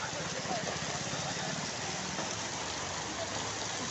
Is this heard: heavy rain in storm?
yes